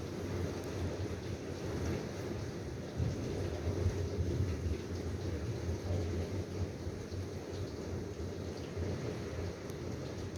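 Storm wind blows outdoors during a duststorm, a steady roaring rush with low rumbling gusts that rise and fall, loud and continuous throughout with no voices.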